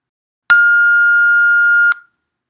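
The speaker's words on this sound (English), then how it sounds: "You may begin to prepare after the beep." A single electronic prompt beep for a TOEFL speaking practice test sounds as one loud, pure tone lasting about a second and a half, alone against silence.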